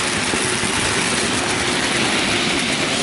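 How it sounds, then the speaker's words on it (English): A Hornby Maunsell S15 model locomotive hauling a train of mineral wagons produces a continuous close whirring rumble with a steady mechanical drone, with no talking. "Also, this locomotive is quite the puller."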